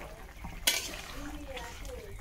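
A spoon scrapes and clinks through a green banana and bhetki fish curry in a pan, with a sharp knock at the start of the stirring and a soft bubbling simmer underneath, close and moderately loud.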